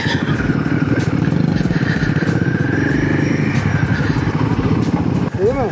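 A Royal Enfield Himalayan motorcycle, a 2024 model, rumbling loudly nearby with a steady engine drone, while people talk over it.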